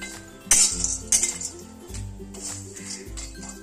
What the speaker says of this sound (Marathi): तर चला मी आता सगळा भाजून घेते